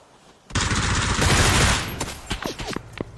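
A loud, rapid burst of automatic gunfire in a shooting video game rattles for about a second and a half, then gives way to a few scattered, shorter sharp sounds.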